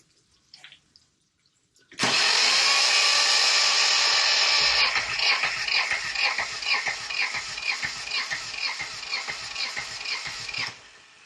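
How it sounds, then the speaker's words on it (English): Engine cranking after the fuel lines were bled: a starter whirs loudly and steadily for about three seconds, then settles into rhythmic pulsing cranking strokes for roughly six more seconds before stopping, with no catch or run. "See if it'll crank."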